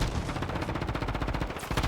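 Gunfire in the shooter Call of Duty MW3 with a magnum revolver in play: a dense, fast run of loud shots and bursts stacked over one another, continuous throughout with no pauses.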